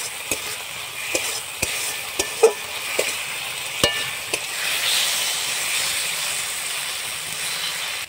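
Garlic paste and potatoes fry and get stirred in a pan for a fish and bottle-gourd kofta curry, a steady close sizzle broken by sharp scraping clicks of the spatula.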